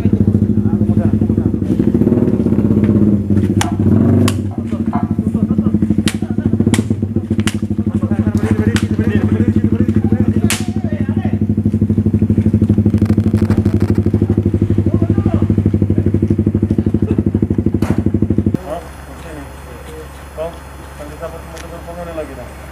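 A motorcycle engine idles and revs nearby during a police roadside check, a loud continuous throbbing that cuts to a quieter idle near the end, with people talking over it.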